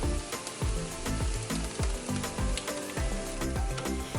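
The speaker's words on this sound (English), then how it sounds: "Add the onion and cook over low to medium heat." Onion, garlic and spices sizzle in hot oil in a saucepan with a steady close frying hiss, broken by regular stirring scrapes and taps.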